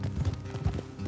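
Horse hooves clip-clop in steady rhythm in a video game, several horses trotting along a road toward an off-road stop, fairly close and clear over low rumbling ambience.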